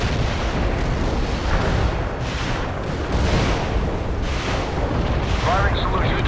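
Heavy artillery barrage in the strategy game World in Conflict, a dense, continuous roar of overlapping booms and rumbling blasts with no letup.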